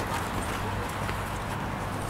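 Horse hooves clip-clop steadily during a riding lesson in the Poitou countryside, a continuous rhythmic thudding over a dense outdoor background, fairly close with no clear talk.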